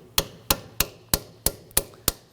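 A hammer taps a CV axle clip on a 2008-2011 Ford Focus to rotate it, seven sharp metallic strikes at a steady, evenly spaced rhythm, close and crisp with no talking.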